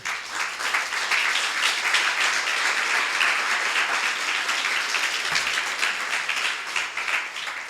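A church congregation applauds during a sermon, giving thick, continuous clapping at close range that holds loud and even for the whole stretch.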